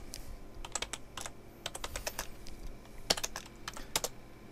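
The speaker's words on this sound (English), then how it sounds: "Let's actually type that." Quiet clicking on a computer keyboard in short irregular bursts of keystrokes with brief pauses, close and faint, while a Roblox project is being edited.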